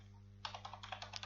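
A quick run of light, rapid keystrokes on a computer keyboard as a password is entered during a Kali Linux installation, close and clear over a faint steady hum.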